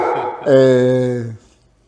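A dog named Coco barks once, a single sustained, tonal bark-howl lasting about a second, close and clear after a brief stretch of speech.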